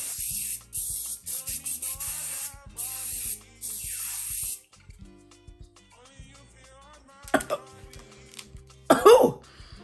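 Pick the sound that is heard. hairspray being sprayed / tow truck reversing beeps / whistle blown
hairspray being sprayed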